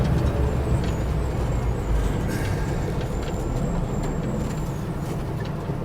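A semi-trailer truck rumbles past close by on a road, a loud continuous low engine roar with a faint brake hiss and whine above it, no voices.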